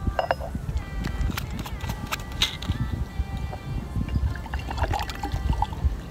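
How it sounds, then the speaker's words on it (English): Leftover water poured out of the bottom chamber of a moka pot outdoors, a trickling splash with light metallic clinks, with a person talking at the same time. "you pour out the last bit of water from the bottom bit"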